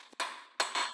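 Taps of a hammer on the front axle of a 2012 Mercedes S550 sound as three or four quick, sharp metallic strikes close together, each ringing briefly.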